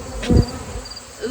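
Honey bees buzz close by on a hive frame, a continuous droning hum with a few louder swells.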